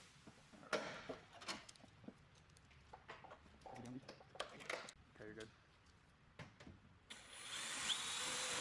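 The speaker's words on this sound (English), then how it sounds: "Drill the row of holes along the B pillar, applying clicos as you go." A power drill bores a row of holes along the B pillar of a Humvee during a fixed top install, with short bursts of drilling separated by pauses and light handling clatter, followed by a steadier whine at the end.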